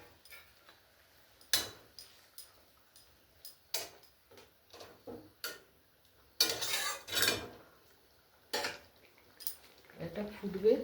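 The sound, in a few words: rui fish added to boiling coriander curry in pan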